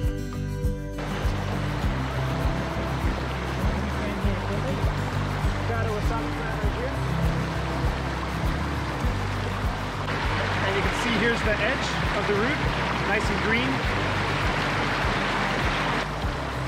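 A clear mountain stream flows where wild Japanese wasabi grows, a steady close rush and gurgle of water that continues unbroken throughout.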